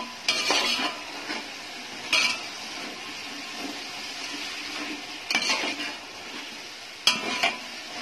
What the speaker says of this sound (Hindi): हरा मसाला, और ये सारी चीजें डाल के इसको अच्छे से भून लेना है।